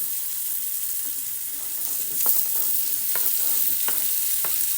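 Carrots tossed into tomatoes frying in a pan for a carrot vegetable dish, a steady soft sizzle with occasional sharp spoon scrapes and taps, close and unaccompanied by talk.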